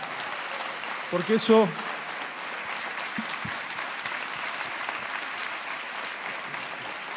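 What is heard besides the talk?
audience applause at a congress opening ceremony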